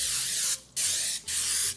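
Cooking spray hisses from an aerosol can onto a baking dish in three steady bursts, separated by two brief pauses, close and loud with no talking.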